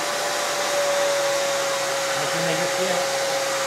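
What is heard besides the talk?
hair dryer heating glue on dry suit neck seal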